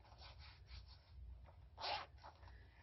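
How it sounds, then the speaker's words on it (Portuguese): A zipper on a coin pocket of a wallet is pulled open, faint rasping strokes ending in one brief, louder zip near the close, recorded quietly and close up. "zíper para bolso para colocar moeda aqui dentro"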